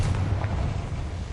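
A Confringo fire spell bursts in Hogwarts Legacy as one heavy, booming blast with a rumbling low-end roar that fills the whole moment, loud and close with no talking.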